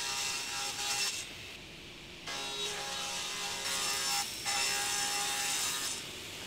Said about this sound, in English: First I'll cut a bevel on the front edges just to add a bit of interest.